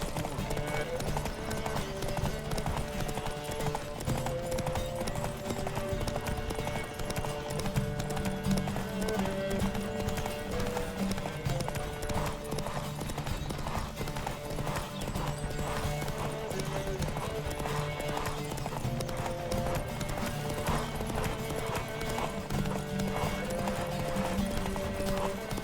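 Rapid clip-clop of several horses galloping together in a race in The Witcher 3: Wild Hunt, steady and continuous with a busy backing track, an occasional whinny breaking through.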